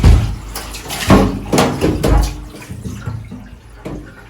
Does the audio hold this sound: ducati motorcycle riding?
no